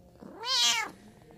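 A ginger cat gives a single close, clear meow that rises and falls over about half a second.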